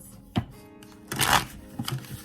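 Tarot cards riffled and shuffled in a few quick bursts, the loudest a dense papery flutter in the middle, with soft handling sounds between.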